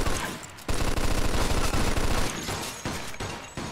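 Rapid automatic gunfire during a police chase in the Mafia II video game, a dense, loud stream of shots for over a second and a half, then a few separate bursts.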